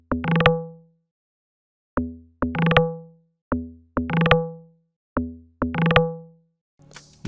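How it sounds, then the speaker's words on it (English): Log drum preset from the FL Studio DX10 stock plugin plays a rolling pattern of pitched, hollow thumps in short clusters with silent gaps, each note decaying quickly; a short burst of a different sound closes the passage. "this log drum was actually selected from a stock plugin in FL Studio that we are all familiar with, which is DX10"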